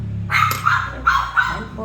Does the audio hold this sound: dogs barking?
yes